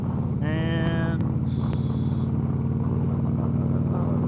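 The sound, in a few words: heavy road traffic around a motorcycle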